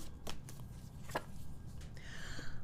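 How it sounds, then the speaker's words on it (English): Tarot cards are shuffled by hand, a few quiet riffling and tapping bursts followed by a soft ruffling flutter, close and faint with no talk. "I'm shuffling. I really am shuffling."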